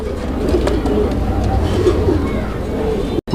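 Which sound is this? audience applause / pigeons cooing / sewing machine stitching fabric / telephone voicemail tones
pigeons cooing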